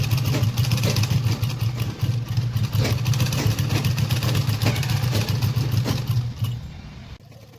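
A sewing machine runs steadily while stitching the hem of an umbrella gown, a loud continuous motor drone with rapid needle chatter that carries for about six seconds before cutting off.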